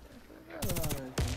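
An F2000 rifle fires in Warface during an online clan-war match, in two rapid automatic bursts that come up sharply after a quieter start, with a voice faintly underneath.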